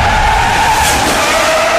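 Loud, close tire squeal from a Lamborghini SVJ fitted with a DMO custom exhaust, a sustained screeching tone over a roaring rush of engine and road noise that runs unbroken.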